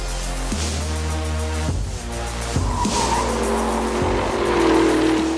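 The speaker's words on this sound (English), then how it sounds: "Coming out of this corner, you have plenty of steering angle, full throttle, loads of power." A Porsche Cayenne Turbo GT powers out of a corner at full throttle, its engine note climbing through repeated upshifts while the tires squeal, loud and close throughout.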